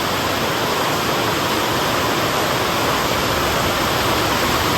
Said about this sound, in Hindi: अभी फ़िलहाल देखिए कितनी तेज़ बारिश हो रही है